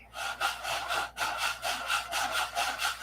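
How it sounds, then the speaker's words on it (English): Rhythmic back-and-forth sanding of wood joints on a P-47 model, a steady scratchy rasp repeating about three times a second, close and alone. "Got to keep sanding until you can't hear it"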